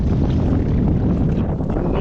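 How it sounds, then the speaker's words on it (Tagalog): Strong wind buffets a fishing boat at sea, a loud, steady roar of wind noise on the microphone throughout, with no clear talk. "Lah, naglakas lalo yung hangin"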